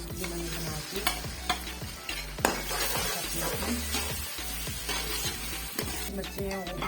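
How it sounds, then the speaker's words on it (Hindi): Ginger-garlic paste frying with browned onions in a pan, giving a steady loud sizzle with repeated stirring scrapes and a few sharp utensil knocks against the metal throughout. "मेरा प्याज जो है वो तकरीबन ब्राउन हो चुका है। तो यहाँ मैं अदरक लहसुन का पेस्ट जो मैंने बना के"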